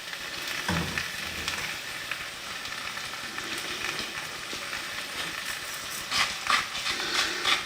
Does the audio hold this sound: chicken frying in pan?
yes